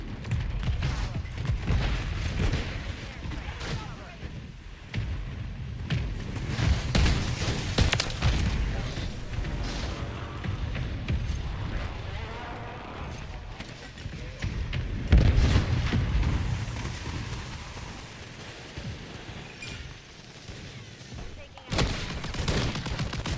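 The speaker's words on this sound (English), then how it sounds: "Hostile mortar strike in the area." Mortar strike explosions during a Call of Duty Modern Warfare multiplayer match, with dense rumbling booms mixed with rapid gunfire throughout, loud and sustained, and game voice announcements layered over the top.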